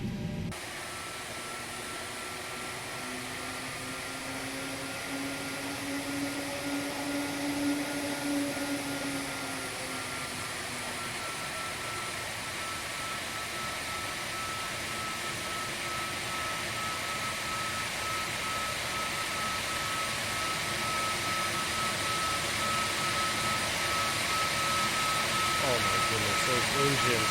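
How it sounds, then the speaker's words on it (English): Continuous whine and roar of Airbus A320neo engines in a flight simulator, a steady broadband hum with a high tonal whistle that swells gradually over nearly half a minute. "Those engines."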